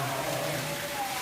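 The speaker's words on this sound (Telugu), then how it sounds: "అంత వర్షం పడుతుంది ఇక్కడ." Heavy rain falling steadily on a street after a night of downpour, a dense, even hiss with no breaks.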